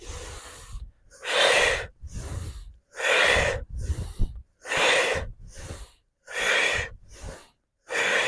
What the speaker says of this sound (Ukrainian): Вдих ніс, а видих губи складені трубочкою через рот.